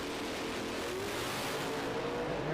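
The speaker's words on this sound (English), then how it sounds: "178 mile per hour charge out of both race cars" Shameless Racing Ford doorslammer drag cars launching side by side at a PDRA American Doorslammer Challenge event: a steady, dense engine roar heard from a distance, continuous and unbroken throughout, without any talking.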